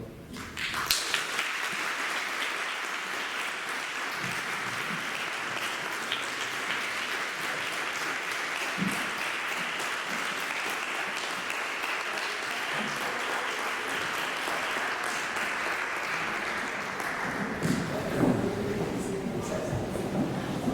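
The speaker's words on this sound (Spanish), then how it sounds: "Démosle a Mabel un merecido aplauso" An audience at a humour award ceremony applauds an award recipient, with sustained dense clapping from a large hall for about seventeen seconds before it thins out and people start talking.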